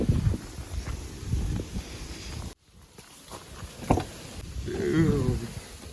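Gusty wind buffets the microphone outdoors in uneven rumbling bursts, with a brief dropout partway through and faint rustling underneath.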